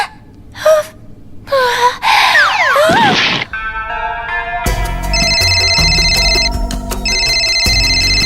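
A cartoon telephone rings, a bright repeating electronic trill in two bursts after a gasp and swooping cartoon sound effects, with a musical score playing underneath.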